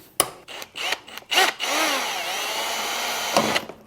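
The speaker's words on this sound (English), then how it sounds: "we're gonna grab the back side of the rivet with the vice grips, and then we're gonna drill the front out" A power drill whirs in short bursts, then grinds steadily into an aluminum rivet with a high whine, close and loud.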